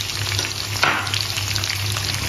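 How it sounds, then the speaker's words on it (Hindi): Capsicum, bell pepper and cabbage stir-fry on a high flame for hakka noodles, a constant close sizzle with brief scraping stirs, no voices. "सबको अच्छे से हम हाई फ्लेम पे अच्छे से हिलाते रहेंगे कंटिन्यूसली।"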